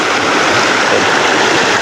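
Waterfall at a scenic spot in Luang Namtha province, Laos, a steady broadband rush of falling water, loud and close, with no voices.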